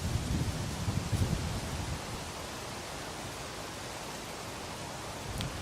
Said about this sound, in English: it's raining, so I'll wait for it to stop